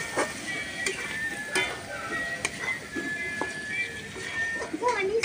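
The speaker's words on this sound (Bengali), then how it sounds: "এরপরে এই যে মাংসের মানে চর্বিগুলো দিয়ে দেব, দিয়ে ভালো করে এটাকে কষিয়ে নেব" Pieces of meat fat fry in a spice paste while a spoon stirs them, giving a low, steady sizzle broken by scattered scraping clicks against the pan.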